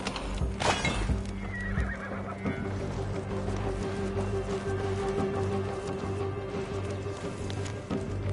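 A horse neighs loudly near the start in Assassin's Creed Valhalla, followed by hoof clip-clop, game ambience and a steady low hum throughout.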